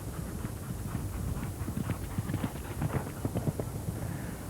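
A horse galloping over cross-country fences at a spring horse trials event, with steady rapid hoofbeats drumming on turf at close-to-mid distance under a broad wash of outdoor noise.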